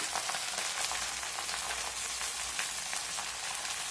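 Gongura greens sautéing in hot sesame oil, a steady close sizzle and crackle of frying that carries on without a break, with no voices.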